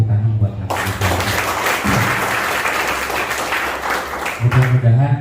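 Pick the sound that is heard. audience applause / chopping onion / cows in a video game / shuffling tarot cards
audience applause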